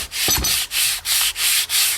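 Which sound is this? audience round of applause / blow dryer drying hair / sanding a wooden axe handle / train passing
sanding a wooden axe handle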